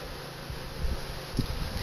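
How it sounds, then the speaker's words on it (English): Honeybees buzz around frames knocked down in front of a swarm trap, a faint, steady outdoor hum with a few soft bumps and rustles. "There was a bunch of bees on them, and I knocked them off right in front."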